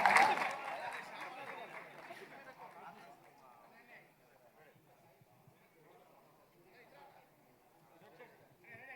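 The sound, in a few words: audience applause welcoming lyricist on stage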